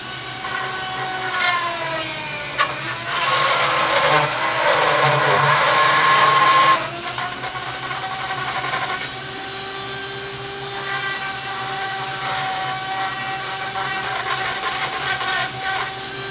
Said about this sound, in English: I'm going to quickly spin up the Dremel and make just a hole for the stem